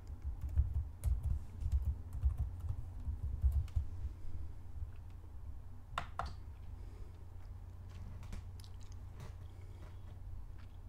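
Computer keyboard typing a password on an openSUSE Tumbleweed desktop running KDE Plasma: a few soft, close key clicks in the second half over a low background hum.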